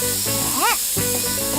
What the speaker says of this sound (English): This paint needs to be sprayed again.